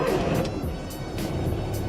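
Engine of a classic Volkswagen Beetle, Judy the Buggy Bug, cranking and running with a rough, throbbing idle and periodic sputters, close and steady throughout the short stretch.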